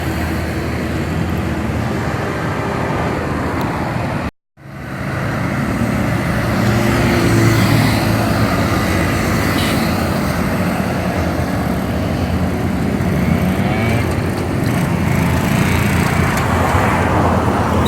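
A loader rickshaw drives along a road in Pakistan on a test drive, with loud continuous engine and road noise recorded up close, broken by one brief dropout.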